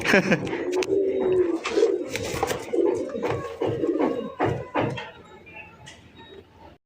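Local pigeons coo in repeated soft, throaty phrases, close and fairly loud at first before fading toward the end, with a few scattered knocks and some background voices.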